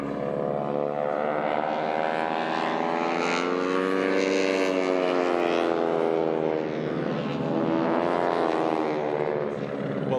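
Aerobatic team airplanes flying at the Sun 'n Fun airshow give a loud, steady engine drone with a rich harmonic tone that swells and eases slightly over about ten seconds, close and continuous.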